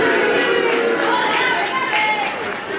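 Packed crowd at Woodville Hall, Gravesend, for a wrestling bout: steady, dense indoor chatter and murmuring from many people, fairly loud and continuous, with occasional brighter calls rising above the hubbub and voices mixed in.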